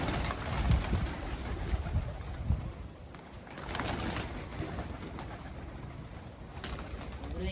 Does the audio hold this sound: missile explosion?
no